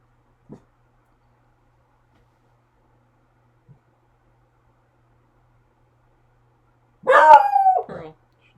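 Pearl the dog barks close by in a quiet room, two sharp barks in quick succession after faint isolated knocks, with no talking.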